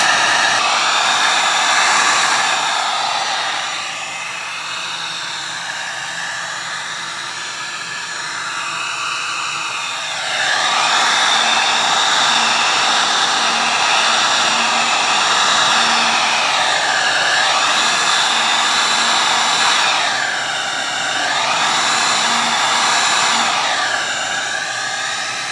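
A heat gun blows a steady, loud airy rush over freshly painted K-series transmission parts, its hiss swelling and easing as the nozzle moves, with no voices over it.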